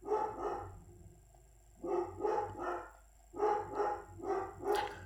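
A dog barks in three bursts of two or three quick, loud barks, separated by short pauses, with nothing else in the foreground.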